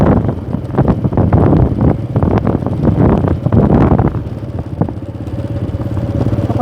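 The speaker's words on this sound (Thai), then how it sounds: "ลมขนาด" Strong gusts buffet the microphone in loud, uneven roaring bursts that ease slightly toward the end, with no talk.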